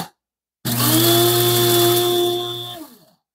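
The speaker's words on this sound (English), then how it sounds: "Put this on there and just press the button. Poor little coffee beans." An electric coffee grinder whirs loudly through coffee beans for about two seconds, starting abruptly and winding down with a falling pitch as the motor stops, with no talking.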